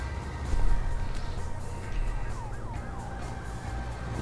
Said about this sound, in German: Ich glaube, man hört die Polizei die ganze Zeit nur